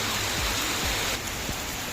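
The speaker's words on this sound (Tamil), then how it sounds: "திடீர்னு மழை பெய்ய ஆரம்பிச்சிருச்சு." Heavy rain pours down steadily during a day trip in Munnar, a dense, loud wash of hiss filling the scene with a few low thumps, no voices heard.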